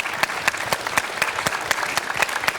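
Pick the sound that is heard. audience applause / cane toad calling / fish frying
audience applause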